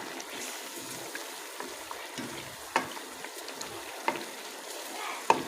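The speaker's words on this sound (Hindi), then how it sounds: "तो अब हम इसकी करेंगे अच्छी खासी ठीक ठाक भुनाई" Chicken pieces sauté in hot oil for chicken karahi, with a soft steady sizzle and occasional clacks as a spoon stirs them close by.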